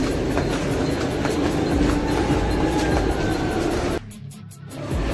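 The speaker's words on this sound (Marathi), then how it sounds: "आता जस्ट एक ट्रेन गेली." A train rumbles past close by at a Mumbai station with a loud, continuous clatter of wheels on rails, then the noise drops away abruptly near the end.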